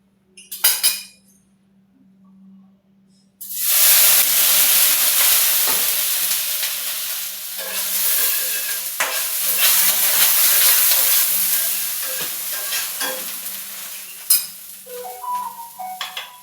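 Homemade millet-mix dosa batter hits a hot pan after a couple of brief clinks, bursting into a loud, close sizzle that hisses steadily and slowly settles, with light scraping near the end.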